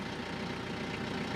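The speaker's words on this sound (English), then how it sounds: "let's go ahead and crank the tractor back up" A tractor engine idling, a steady low rumble that holds at an even level for the whole stretch, with no speech.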